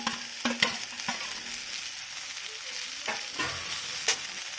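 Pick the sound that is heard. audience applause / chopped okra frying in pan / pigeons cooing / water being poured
chopped okra frying in pan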